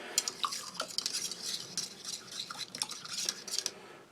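A metal spoon stirring sugar into black tea in a cup from a Turkish 24-hour ration, quiet rapid clinks and scrapes against the cup's sides in a continuous irregular rhythm, close up with no talk.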